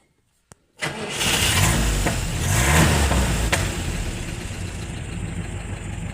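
GAZ-69 engine cranked and firing up after fresh fuel filter service, catching quickly into a loud steady run with a rising rev, close up, no talk.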